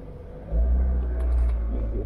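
A car engine starting, catching with a sudden deep low rumble that settles into a steady, close idle.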